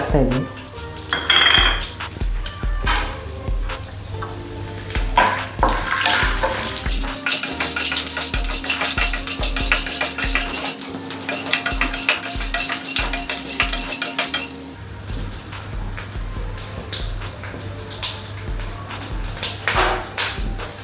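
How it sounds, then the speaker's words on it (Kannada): Peanuts fry and sizzle in a pan while a utensil scrapes and clatters against the metal in repeated stirring strokes, loud and close, with a low hum and some speech in the background. "ಕಡಲೆ ಬೀಜ ಚೆನ್ನಾಗಿ ಫ್ರೈ ಆಗಬೇಕು"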